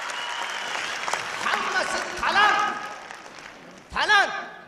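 An audience claps for a singer on stage, a bright burst of applause that swells and fades, mixed with talk and a short vocal passage near the end.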